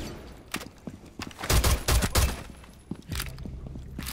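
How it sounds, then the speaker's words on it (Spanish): Gunfire in the video game Rainbow Six Siege: a burst of several sharp, loud shots crackles in the middle, with scattered fainter shots and footsteps before and after. "Ahí dispara entre unas bolsas."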